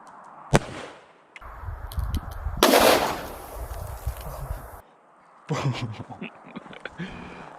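A small bottle bomb explodes with a sharp, loud pop, followed by rustling and scattered outdoor noise, then a second burst of clattering sound.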